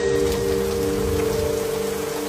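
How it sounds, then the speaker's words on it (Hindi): Light rain patters steadily on a surface in cold weather, a dense, even hiss with a faint hum beneath it and no pauses. "ठंडा मौसम, हल्की बारिश"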